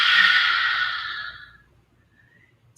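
A single long, breathy exhale during a yoga session, close and fairly loud, fading out over about a second and a half before a short sharp breath at the end.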